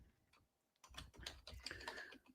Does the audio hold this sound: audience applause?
no